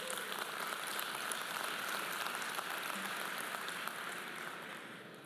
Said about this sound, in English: definitely deserve another round of applause